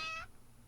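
A pet cat lets out one brief, faint meow close to the microphone in a quiet room, then falls silent.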